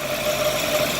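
A 1959 Corvette engine with a small exhaust leak idles steadily up close, giving a continuous, even low hum with no talking.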